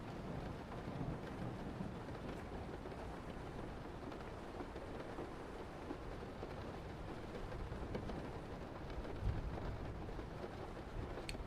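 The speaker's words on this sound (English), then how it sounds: "Oh, it's rain sound effects." Steady rain sound effect, a continuous hiss of falling rain at even loudness throughout, with possible low rumbles of thunder in the background.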